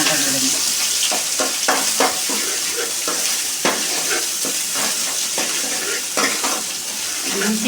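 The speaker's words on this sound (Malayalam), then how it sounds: "അപ്പം കടുക് പൊട്ടിയിട്ടുണ്ട്" Continuous crackling sizzle of seeds popping in hot oil, with sharp spluttering bursts scattered throughout, loud and close.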